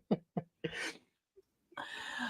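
A person sneezes during a live wrestling broadcast: two short sharp intakes, then a loud burst with noisy spray, a brief pause, and another long sneeze-like expulsion, close and alone.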